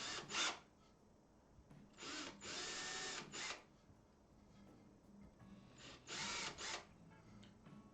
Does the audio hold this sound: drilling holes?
yes